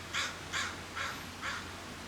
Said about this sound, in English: And the crow agrees.